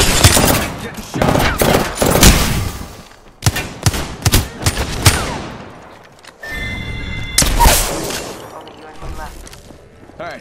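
Heavy gunfire in the video game Apex Legends, loud repeated bursts of rapid shots with short pauses between them and one brief quiet gap midway.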